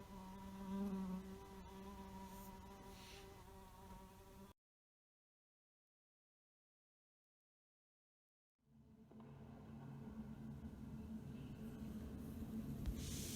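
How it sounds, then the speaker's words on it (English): Flies buzz close around, with a steady insect drone and wavering tones for several seconds, then a stretch of total silence before the buzzing swarm returns, continuous and faint. "I hear their incessant buzzing all around me."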